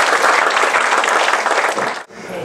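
A dense, loud burst of audience applause welcomes a visiting professor as the lecturer at a talk on science games for visually impaired students, clapping steadily for about two seconds before cutting off abruptly.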